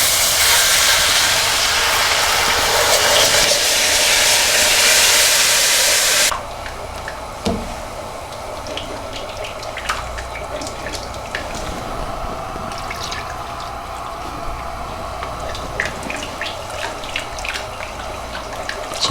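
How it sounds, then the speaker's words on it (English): Milk is poured a little at a time into hot sauce in a pan for macaroni and cheese. After a loud hiss at the start, quiet drips and small splashes follow over a low steady background, with no talk. "take our 500 milliliters of milk and just add a little bit at a time"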